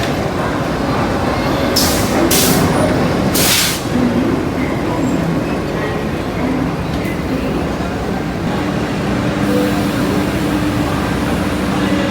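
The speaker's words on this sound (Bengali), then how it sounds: "নেপাল যাওয়ার জন্য আমরা মিথিলা এক্সপ্রেস করে রক্সল পৌঁছালাম।" Mithila Express train rolling along the tracks, a steady loud rumble of wheels and carriage noise throughout, with a few sharp hissing bursts early on and faint voices underneath.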